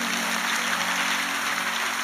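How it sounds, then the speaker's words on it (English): Church congregation applauding in praise during a worship service, a dense continuous wash of clapping with a steady hum beneath, no voices standing out. "Clap for the King of all kings."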